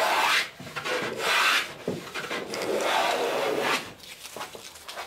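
Hand tool strokes smoothing a wooden plank on a clinker-built boat mould, freshly planed. Several close, breathy rasping passes come in uneven bursts with short gaps between them, and nobody speaks.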